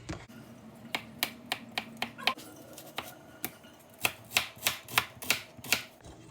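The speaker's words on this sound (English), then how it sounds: "I'm gonna cut up my mushrooms and onions" Knife chopping mushrooms and onions on a cutting board during home dinner prep: a series of sharp, separate taps at first, then a quicker burst of louder knocks near the end.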